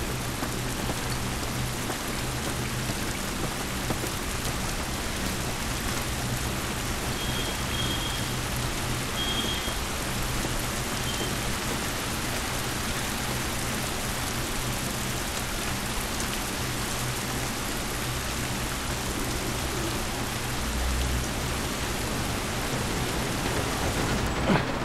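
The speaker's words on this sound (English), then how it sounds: "This rain ain't gonna do us any good." Steady, dense rain falling outdoors in The Last of Us Remastered, a constant hiss of drops on surfaces that holds evenly from start to finish with no pauses, alone without speech.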